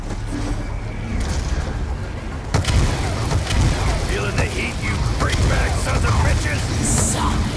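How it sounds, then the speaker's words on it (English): Heavy bomb explosions in Black Ops II Zombies: a quiet start, then a sudden loud blast with sustained booming rumble and crackling debris continuing at close range. "Who's dropping bombs?"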